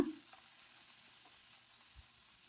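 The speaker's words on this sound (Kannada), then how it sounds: "ಕ್ಯಾಪ್ಸಿಕಮ್ನ ಹಾಕಿ ಚೆನ್ನಾಗಿ 1-2 ನಿಮಿಷ ಫ್ರೈ ಮಾಡ್ಕೊಳ್ಳೋಣ" Capsicum frying in a pan over a medium-low flame for a simple chutney, giving a faint, steady sizzle throughout with a light stir near the start.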